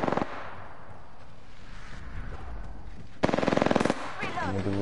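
Rapid automatic gunfire bursts in the battle royale video game Apex Legends, loud sharp volleys at the start and again in the middle, with electronic game effects between.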